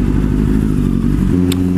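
A Kawasaki Z900 motorcycle engine rumbles close by, its low throb steady and then shifting pitch as it revs, with traffic noise around it.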